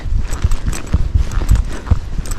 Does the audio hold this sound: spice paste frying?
no